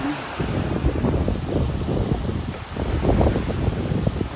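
Continuous rush of beach waves at high tide with a man swimming offshore, waves swelling and receding in uneven surges over wind rumble on the microphone, with no voices.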